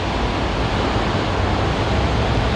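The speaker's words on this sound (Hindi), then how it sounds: "ये सारी आवाज़ पानी की है, वेव्स की।" Ocean surf washes steadily at a beach where seagulls fly overhead, a dense, continuous roar of breaking waves with no distinct individual crashes, loud and close throughout.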